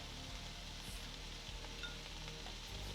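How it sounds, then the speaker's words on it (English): Savoy cabbage sizzling and frying in a hot pan, a steady dense hiss with faint stirring crackle throughout, close and continuous with no voices. "Toss the cabbage in and add a little more salt to help it break down."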